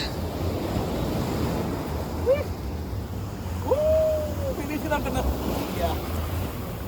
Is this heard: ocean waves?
yes